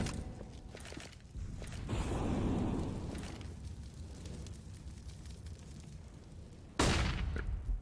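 AK rifle fire in a Counter-Strike match on the Mirage map: bursts of gunfire and a loud sharp blast near the end over a rumbling in-game backdrop, no talk.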